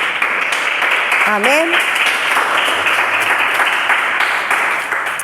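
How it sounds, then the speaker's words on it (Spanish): Church congregation applauding during a sermon, dense steady clapping throughout with a voice speaking briefly over it and music sliding in underneath. "Dale un fuerte aplauso al Señor."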